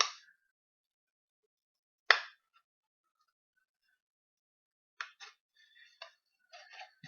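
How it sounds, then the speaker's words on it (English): Scissors snipping around a CD wrap for a homemade bracelet holder, a few sharp isolated cuts separated by silence, then a cluster of quicker small snips, close and quiet. "So I'm just going to carefully cut it around."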